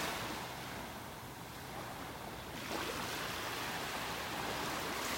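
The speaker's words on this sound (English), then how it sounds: "Little waves popping up out there." Small ocean waves break over a sandbar on a beach in North Naples, Florida, giving a continuous broadband wash of surf with some wind rumble on the microphone.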